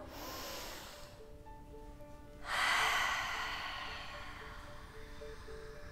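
One close, sharp breath drawn in during a children's yoga session, a breathy rush rising suddenly midway and fading slowly over faint background tones.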